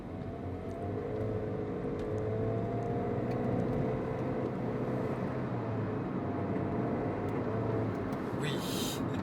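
A 2017 VW Polo 1.2 TSI turbo car accelerating on the road, a steady droning engine note with rising tonal whine heard from inside, continuous and moderately loud, with a brief rustle near the end.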